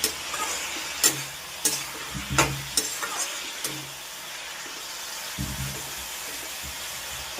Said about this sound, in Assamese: এইফালে ভাজিখন বহাই দিলোঁ, নিমখ হালধি দি দিলোঁ